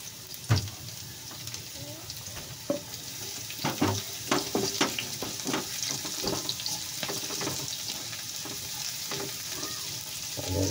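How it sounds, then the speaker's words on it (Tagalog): Garlic and onion sautéing together in oil in a pan, irregular sizzling crackles and spatula scrapes as the pieces are stirred, fairly close, with a brief watery splash near the start and a steady hiss building toward the end. "Sama natin yung sibuyas. Pagsabayin natin yan."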